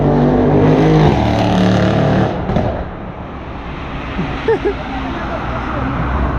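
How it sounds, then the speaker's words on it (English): Cars pass along a road in Johannesburg, South Africa: a loud rushing pass-by fades after a few seconds into softer traffic noise, with talk heard over it. "The kind of cars that are passing through this road."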